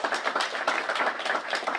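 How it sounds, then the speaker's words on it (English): Audience applause for a choir at a family birthday celebration, a dense, steady patter of many hands clapping together throughout, fairly close and without talk. "Can you please give them a big round of applause?"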